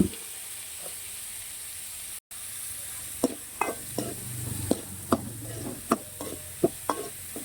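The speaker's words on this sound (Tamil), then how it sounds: "நல்லா வதக்கிடுங்க நல்லா வதங்கட்டும்" Vegetables sautéing in a pan for tamarind curry with small turkey berries, a steady close sizzle broken by regular spatula stirs and scrapes against the pan.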